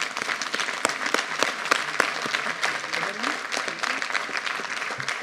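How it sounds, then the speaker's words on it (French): Audience applause for Jean-Pierre Durin at a town New Year's ceremony, many hands clapping steadily with distinct sharp claps standing out and murmured voices underneath. "Je crois qu'on peut applaudir, vous l'avez compris, Jean-Pierre Durin."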